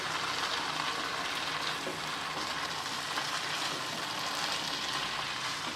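Glass noodles are tossed and stirred in a hot frying pan, giving a steady, fairly soft sizzle with faint scraping, continuous and unbroken, with no voices.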